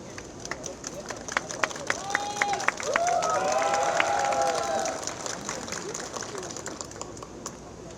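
Crowd applause welcoming candidates at a union officer election, scattered claps that swell into a fuller round with cheering, then settle back toward sparse clapping.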